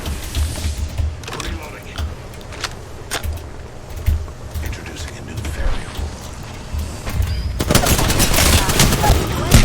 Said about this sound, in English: Quit shooting me with bullets